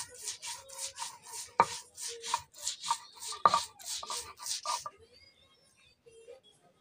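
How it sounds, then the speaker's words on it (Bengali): Mustard seeds being ground by hand on a traditional stone grinding slab, a run of rhythmic rubbing strokes at an even pace, close and moderately loud, then the strokes stop and near quiet follows. "সরিষাগুলো শিলপাটাতে করে বেটে নিচ্ছি।"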